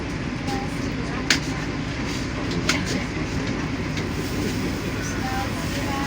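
Steady rumble of the Penataran commuter train rolling out of an Indonesian station, with a low continuous roar and a couple of sharp metallic clanks; voices murmur faintly in the background.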